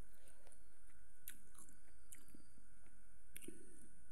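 Someone eats freshly cooked rui fish curry at close range, with soft wet chewing, squishing and occasional small crunchy bites.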